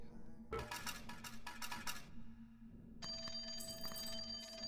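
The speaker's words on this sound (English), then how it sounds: "Alright, this is our red phone call." A red telephone rings in the video game Cloverpit, a rapid metallic bell trill in two bursts followed by a sustained electronic ringing tone, with faint background game sounds.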